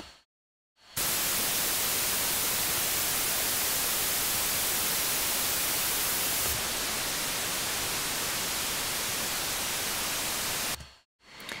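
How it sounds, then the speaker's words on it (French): A steady synthesizer oscillator hiss plays alone, unfiltered, broad and loud, then its tone shifts slightly partway through as a voltage-controlled filter engages, before cutting off. "le son de l'oscillateur, sans filtre, et ensuite d'un coup je vais activer le filtre"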